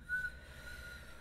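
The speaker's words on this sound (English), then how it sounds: "Get a little whistle going." A single soft whistle drawn in through pursed lips during a breathing warm-up, a thin steady tone that fades after a moment and is left alone with no talking.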